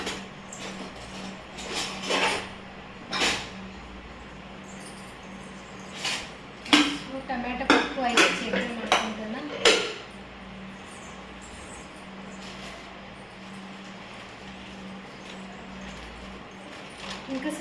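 Cooking pots and metal vessels are handled in a home kitchen, giving a run of sharp clanks and clinks, densest in the middle stretch, over a steady low hum.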